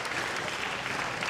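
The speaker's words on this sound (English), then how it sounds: "Massive amount of applause." Massive crowd applause at a pool freediving world championship in Kaunas, a dense, continuous roar of clapping filling the whole brief moment at even loudness.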